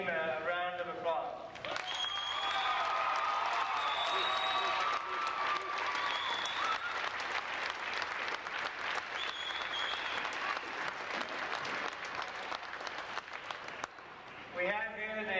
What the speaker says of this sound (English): I think we should give this team a round of applause